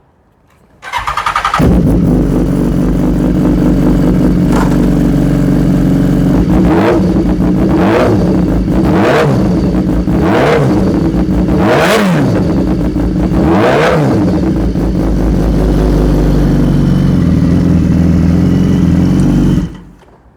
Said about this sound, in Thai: ขอฟังเสียง เครื่องยนต์หน่อยครับ